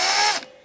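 A screw is driven into a guitar body while fitting a tremolo stabilizer, giving one loud, continuous, close-up whirring burst of about a third of a second that cuts off sharply, followed by a quiet faint tail.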